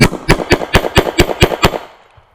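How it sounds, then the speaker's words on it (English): A 1911 pistol fired as fast as possible through a full Kimber magazine: eight loud, sharp shots in a rapid, even string about a quarter second apart, close by, ending in a short fading echo. "So we're going to do a mag dump on this Kimber mag."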